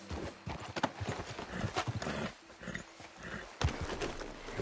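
Horse hooves clip-clopping in a steady rhythm in Red Dead Redemption 2 free roam, fairly close and loud, with a low engine-like rumble and scattered game ambience beneath.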